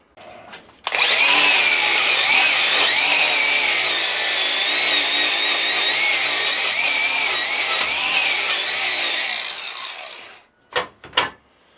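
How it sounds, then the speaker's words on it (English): A die grinder cutting into an aluminium swing arm on a Honda CR 125 motorcycle under repair, a loud close continuous high whine for about ten seconds that fades out, followed by a few short bursts. "And cut some of that off with a die grinder and clean up in there a little bit"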